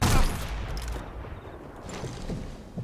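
A single sharp rifle report from a sniper rifle in Sniper Elite 4 opens the moment, followed by a fading echoing tail and faint rustling ambience.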